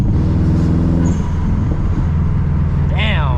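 Loud, continuous engine drone from a Stage 2+ Subaru WRX STI with aggressive exhaust and intake noise, heard from inside the car while driving, with a rising whine near the end and a voice talking over it.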